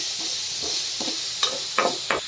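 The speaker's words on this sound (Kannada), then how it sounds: "ಒಂದು 2 ಈರುಳ್ಳಿ ಹಾಕ್ಕೊಳ್ತಾ ಇದ್ದೀನಿ. ಇದನ್ನು ಸ್ವಲ್ಪ ಫ್ರೈ ಮಾಡಿದರೆ ಸಾಕು." Onions, two of them, frying in a pan for a soya chunks curry, giving a steady low sizzle with a few louder stirring scrapes toward the end; no one speaks.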